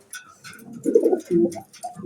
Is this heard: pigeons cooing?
yes